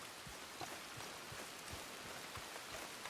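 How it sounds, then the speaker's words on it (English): Rain falls as a steady, close hiss with scattered heavier drops pattering on a surface, no voices over it. "And now it's raining."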